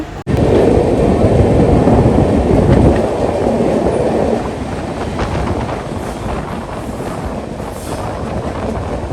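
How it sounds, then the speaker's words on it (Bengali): A passenger train runs through hilly country near Mumbai, a loud steady rumble of wheels and carriages with faint clickety-clack that eases and settles to a softer, continuous roll after a few seconds; no voices. "পাহাড়ের ভেতর দিয়ে ট্রেনটা যাচ্ছে"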